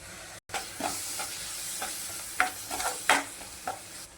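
A pan sizzles steadily up close as tomato paste fries for paneer gravy while a spoon stirs and scrapes, with a few sharper bursts of sizzling as the food is moved around.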